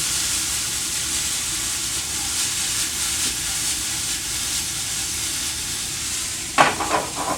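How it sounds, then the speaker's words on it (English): Potatoes frying and caramelizing in a hot salmon skillet give a steady, moderately loud sizzle and hiss, with a brief stirring clatter near the end. "Now the potatoes starting to caramelize real nice and good there."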